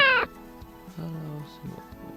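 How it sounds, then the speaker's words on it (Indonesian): A cartoonish cat meow from a Scratch coding project sounds at the very start, short and bright, followed by a person speaking. "syarat sound kita ganti juga ke meow 1 supaya terlihat seperti ajakan yang bersemangat"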